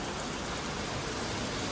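Steady, dense rain falls on a surface, a continuous even hiss that holds at the same level throughout with no voices.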